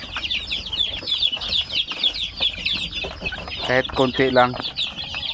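Chicks and chickens clucking busily while being fed, near and lively throughout, with a brief louder squawking run near the end, and a person speaking a few words over them.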